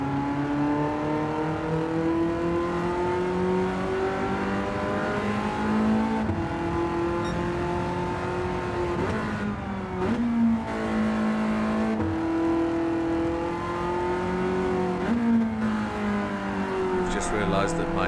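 Racing-game car drifting, rear tyres sliding near their grip limit: a steady, loud engine drone with a sustained tonal whine shifting pitch as revs rise and fall, running throughout under a talking voice.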